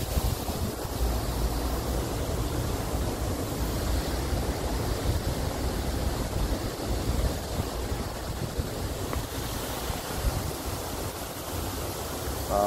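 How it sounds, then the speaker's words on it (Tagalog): Waterfall water feature at the Umeda Sky Building in Osaka, a steady broadband rush of falling water that stays even and moderately loud throughout, with no talk over it. "Nakaka-relax yung tunog ng waterfall."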